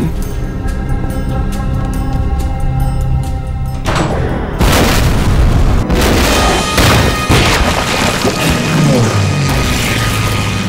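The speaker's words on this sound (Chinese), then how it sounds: "可日本军机的轰炸还是比想象中来得更快更猛烈" Heavy aerial bombing by Japanese warplanes over Shanghai in a wartime drama: a dense barrage of loud booming blasts and crashing debris, rising sharply after a few seconds and continuing in rolling waves, with no voices.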